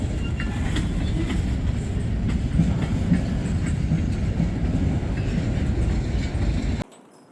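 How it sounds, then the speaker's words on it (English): A train rolls past close by with a steady loud rumble and faint rhythmic wheel clatter, then the noise drops off sharply near the end. "same train that just went underneath the bridge at Manoa."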